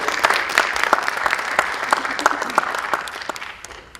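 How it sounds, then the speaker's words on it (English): Audience in a high school auditorium applauds the students at a State of the School event, a dense sustained clapping that fades slightly toward the end. "Round of applause for the students."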